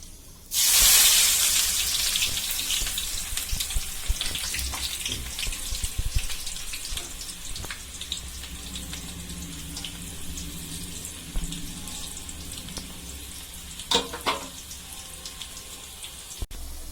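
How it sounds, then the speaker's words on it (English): Onions frying in a pan with whole spices, cloves, cinnamon and cardamom, for vada curry: a loud burst of sizzling as they hit the oil, settling into a steady crackling hiss with occasional clinks, no talking. "Now I am going to fry the onions."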